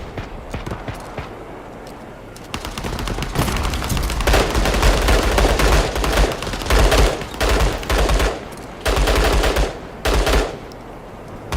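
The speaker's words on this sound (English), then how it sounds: "The sound as well, the sound of the guns, they sound really good as well." Rapid machine-gun bursts and gunshots from the World War 3 video game, loud and close, with dense stuttering volleys and short gaps in a long-range firefight.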